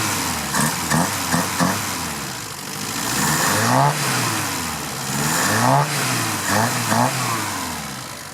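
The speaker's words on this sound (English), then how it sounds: "I don't think I've shown you guys this engine yet." An old car's engine under restoration with a shaved engine bay, idling and then revved repeatedly in rising and falling surges, loud and close, with no one talking.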